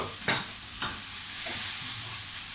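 Tomatoes cooking in a pan for plant-based Mexican beans, a soft steady sizzle close by with two sharp utensil scrapes near the start and no talking.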